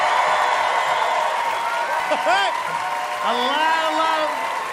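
A studio audience at a comedy debate show applauds and cheers loudly and steadily, with a voice speaking over the noise partway through.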